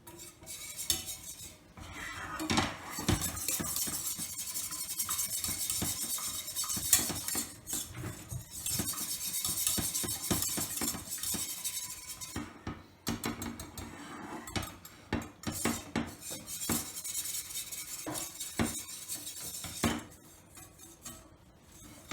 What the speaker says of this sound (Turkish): Unu ekledikten sonra karıştırıyoruz. tereyağıyla beraber karıştırıyoruz.